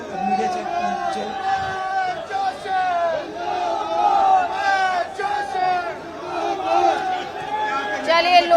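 A large crowd of supporters of Mahesh Joshi shouts slogans in the street at a political protest in Hawa Mahal, Rajasthan. Loud, overlapping rhythmic chants rise and fall continuously.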